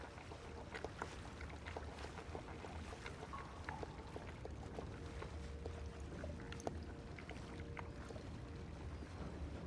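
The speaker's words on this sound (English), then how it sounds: "I don't know how the guards don't hear the splashing water from the paddles" Soft, quiet splashes of paddles dipping into water while a rowboat moves along in Red Dead Redemption 2, with faint lapping water and a low ambient bed throughout.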